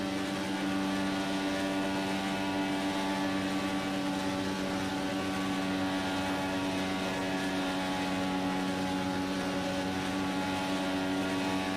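Indycar engine in the Project Cars 2 racing game during a career oval race, a steady loud harmonic drone held at fairly constant revs throughout, with no talking.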